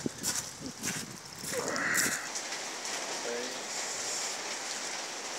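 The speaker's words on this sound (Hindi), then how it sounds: "बारिश रुकने का नाम ही नहीं ले रही, कल रात से बारिश है" Heavy rain falls during flooding at Al Huqain in Wilayat Rustaq, Oman, as a constant soft hiss of rain on surfaces. Some brief, louder background sounds occur early, then the steady hiss continues.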